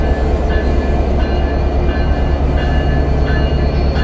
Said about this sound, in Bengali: ট্রেনটি চালু হয়ে গেছে।